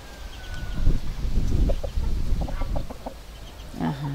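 A rooster and hens let out outdoors in hot weather on a dry, sparse plot, clucking in short, close bursts over a low background rumble, with faint outdoor ambience.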